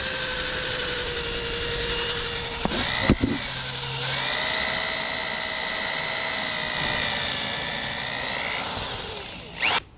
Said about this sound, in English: we got our 2 holes we're going to be drilling